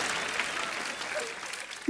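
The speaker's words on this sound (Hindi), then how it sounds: "ओए तालियां भी।" Studio audience at a comedy show breaking into steady, dense applause, a close, continuous clapping roar over the whole short stretch.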